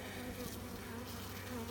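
Honeybees swarm over a frame lifted from a young nuc hive, their dense, steady buzzing filling the air up close, with no voices over it.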